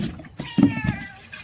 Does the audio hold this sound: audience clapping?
no